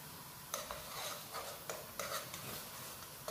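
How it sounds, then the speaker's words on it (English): Masala chai with turmeric powder and loose tea being stirred in a pot: a string of faint, light metallic clinks and scrapes against a steady background hiss, no voices. "Give it a bit of a mix."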